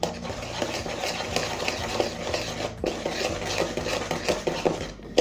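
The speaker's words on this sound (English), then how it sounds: "and also stir" A spoon or whisk works through vanilla-flavored cake batter for a blueberry and raspberry cake, with steady, repeated scraping strokes against a bowl, close and moderately loud, with no voices.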